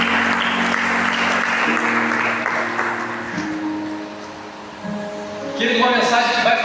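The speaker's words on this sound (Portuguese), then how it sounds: "Você pode aplaudir o Senhor?" Church congregation applauding during a sermon, a broad wash of clapping that fades somewhat midway then swells again near the end, with music or voices underneath.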